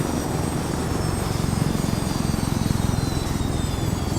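A military helicopter flies in within the Arma 3 game on Stratis, its rotor thumping in a rapid, steady beat under a whining turbine, loud and close throughout with no talk.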